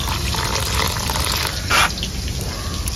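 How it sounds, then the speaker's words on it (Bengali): Splashing water poured into a pan of ground turmeric and chilli powder for a mustard-paste fish curry, a steady trickle with one louder gush partway through. "এখন দিয়েছি সামান্য পানি।"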